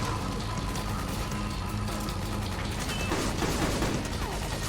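Continuous rattling gunfire from an enemy in a Metal Gear Solid game, a steady dense clatter of shots over noisy background with no talk.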